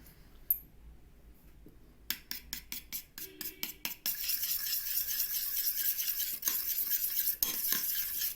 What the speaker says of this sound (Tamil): வாங்க இப்போ ஆலோவேரா ஜெல்லையும் ஃபேர் லெவலையும் நல்லா மிக்ஸ் பண்ணிக்கலாம்